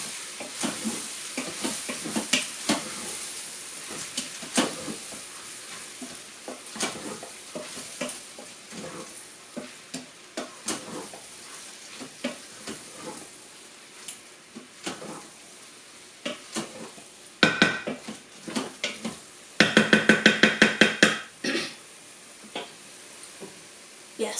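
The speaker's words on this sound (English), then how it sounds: "stir the gizzards into the onion, tomato, spice mixture and get them very well coated" Chicken gizzards being stirred into a frying mixture of onion, tomato and spices for a gizzard curry, with steady sizzling and repeated scraping of a utensil against the pan, busiest and loudest near the end.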